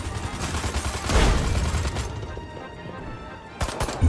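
Gunfire in the video game Destroy All Humans! 2 Reprobed, a dense rattling burst building to a louder peak before trailing off, then a sharp renewed shot near the end, with no talk.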